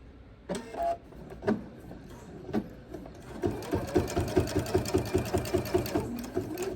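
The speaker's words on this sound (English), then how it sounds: "I'm going to sew right up until my needle is stuck in this edge of this right side over here." A sewing machine stitching quilt binding, starting with a few short separate bursts, then running in a fast, even rhythmic series of close, mechanical stitches.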